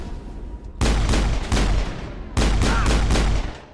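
Gunfire in the video game Mass Effect: two loud, sustained bursts of rapid shots, the first around a second long and the second lasting over a second, separated by a brief lull with quieter background game noise.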